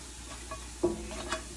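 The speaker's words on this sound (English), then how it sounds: "Now we're going to put the Italian sausage." Italian sausage hits a hot pan for Thanksgiving dressing, giving a low background sizzle with a sharp clatter near the middle as it goes in, followed by a few brief stirring scrapes.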